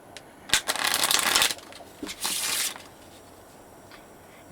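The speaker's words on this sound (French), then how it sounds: "Maintenant on va mélanger le jeu." A deck of playing cards is shuffled during a magic card trick, with two quick riffling bursts, the first longer than the second, each ending in a soft snap, close and clear with no talking.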